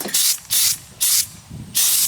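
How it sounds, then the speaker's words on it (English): Four bursts of aerosol spray hiss onto a freshly cleaned metal tool in a shed, each lasting about a quarter second with short pauses between, close and loud. "I just gotta give her a spray down."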